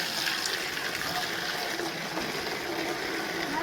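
A pipe sprays water over a vehicle during a Holi gathering, making a continuous close hiss and rush of spraying and splashing water with no break.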